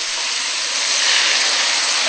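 A steady loud sizzling hiss of water hitting a hot pan of sautéed aromatics for cooking beef tongue, swelling slightly and holding without a break.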